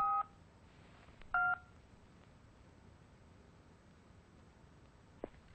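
A telephone number dialed on a keypad: two short bursts of touch-tone beeps near the start, then a quiet stretch and a single faint click near the end.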